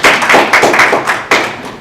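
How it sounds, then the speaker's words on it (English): Audience applause at a talk in a Mensa chapter meeting: loud, close, rhythmic clapping in strong repeated bursts, a few hands beating together in a fairly regular pattern with no talking. "How about a round of applause?"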